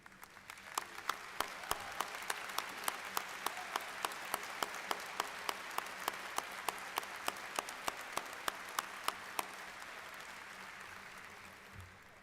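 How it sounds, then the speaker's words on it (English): A large audience applauds steadily at a university commencement ceremony, a dense wash of clapping heard from a distance, lasting about ten seconds before it thins out. "please join me in a round of applause"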